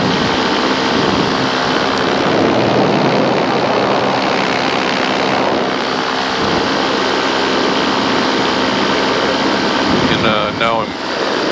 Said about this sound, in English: We're just kind of chugging along here. Motor's running good.